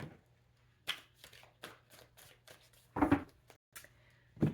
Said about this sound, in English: Just shuffle, let the cards come out